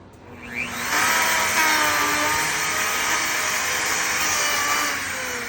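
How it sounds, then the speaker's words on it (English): A Festool wood router spins up and cuts into wood, a loud steady high whine that rises quickly and holds near and unbroken before easing slightly at the end. "Am I going the right direction with the router?"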